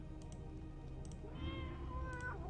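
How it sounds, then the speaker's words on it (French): A cat meows in the dark fantasy video game Tormentum: Dark Sorrow: one drawn-out, wavering meow that rises and then falls in the latter half, over a quiet soundtrack hum. "C'est un chat?"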